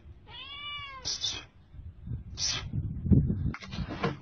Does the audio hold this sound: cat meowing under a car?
yes